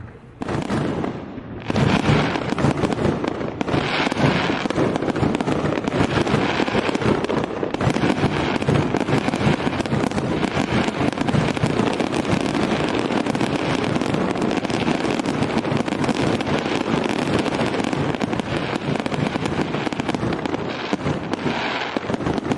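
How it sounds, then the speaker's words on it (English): Fireworks from a live stream celebration, a dense continuous barrage of bangs and crackles that keeps going loud and close for the whole stretch, with wind rumbling on the microphone and no talking. "We got fireworks."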